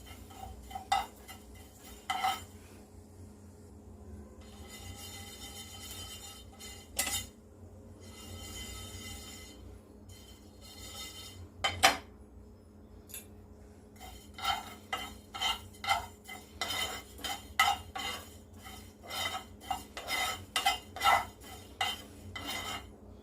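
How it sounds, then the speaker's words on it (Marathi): Fennel seeds, with fenugreek seeds, are warmed and dry-roasted in a pan, with repeated metallic clinks and scrapes of a spoon stirring, coming in irregular bursts over quiet background hiss. "त्यामध्ये 2 टेबलस्पून बडीशोप पण थोडीशी गरम करून घ्यायची आहे"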